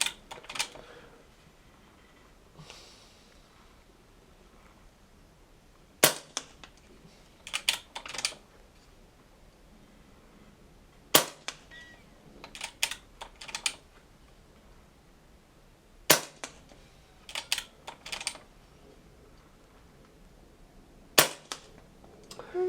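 A .25 calibre Brocock Sniper HR air rifle fires Barracuda Hunter Extreme pellets in five sharp, well-spaced cracks, each followed by faint clicks and handling noises of reloading, close and crisp over a quiet background.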